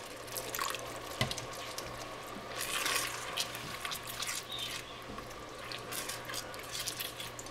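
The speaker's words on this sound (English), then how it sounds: "now we're going to add in just a little bit of water" A few tablespoons of water poured into a simmering buffalo chicken sauce in a pan, a gentle trickle and splash over a low steady hum, close and fairly quiet.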